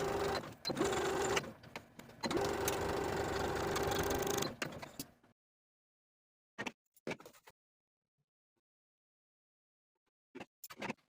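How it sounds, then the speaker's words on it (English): A sewing machine stitches darts on a vest, running steadily for about five seconds, then stops; after a silence, a few short bursts of stitching follow. "Then take it to your sewing machine and follow those dart lines from the top to the bottom"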